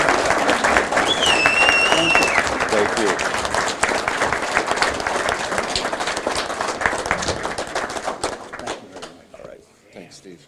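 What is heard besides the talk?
audience applause at fire department event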